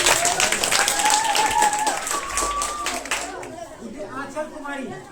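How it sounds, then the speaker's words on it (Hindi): Students at a government school quiz competition clap together in a burst of applause that fades after a few seconds, while a voice speaks over it and chatter continues afterward. "एक बार जोरदार ताली बजाइए।"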